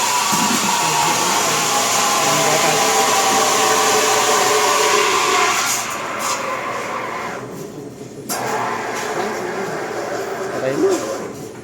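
McCafe barista steaming and texturing milk with a steam wand, a loud close hiss and roar that runs steadily, then drops away and returns, with voices in the background.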